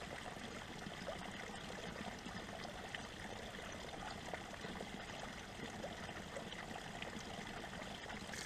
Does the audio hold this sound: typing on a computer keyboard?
no